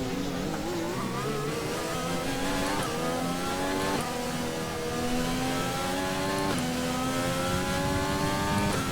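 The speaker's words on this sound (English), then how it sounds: "So we get spun round by Grosjean." A race car in the F1 2020 video game screams through repeated high revs. The engine pitch climbs and drops several times in quick shifts, loud and continuous throughout.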